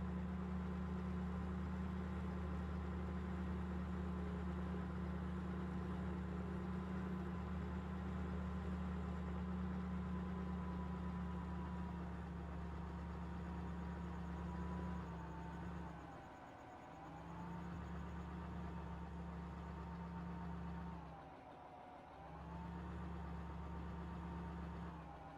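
A small John Deere yard tractor engine in a farming video game hums in a steady droning idle that dips briefly twice as the revs fall and recover, with no talking.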